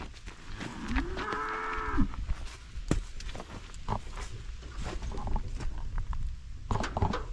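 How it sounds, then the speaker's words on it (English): Cattle moo clearly twice in close succession, a long low call with a higher harmonic tone, followed by scattered thumps and rustling in the background. "Cows think they're hungry."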